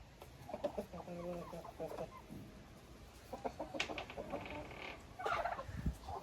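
Chickens and roosters kept together with turkeys cluck and chatter in a backyard poultry pen, a busy mix of short, near calls rising and falling, with soft rustling between them.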